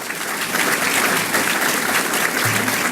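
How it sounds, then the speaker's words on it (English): An audience applauds journalists during a Chicago Sun-Times event, a full, even burst of clapping from a crowded room that holds steady throughout the moment without any speech over it. "So can I get another round of applause for the hardworking journalists who are here"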